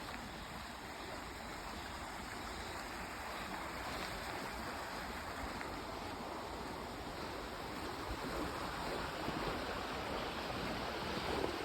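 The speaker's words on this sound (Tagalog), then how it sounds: "Yung agos ng tubig." A stream flowing through woods in Germany, a steady, soft rush of water that continues evenly and grows slightly louder, with no talking.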